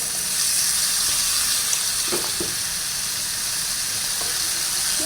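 Taro stolons dropped into a pan of dried fish frying in oil, giving a steady, loud sizzle throughout with a few soft stirring clinks near the middle.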